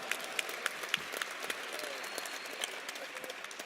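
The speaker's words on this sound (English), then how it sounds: "So give her a warm round of applause." Quiet, distant applause from an audience at Alabama A&M University's introduction of new head football coach Sam Shade, steady scattered clapping with faint crowd murmur underneath.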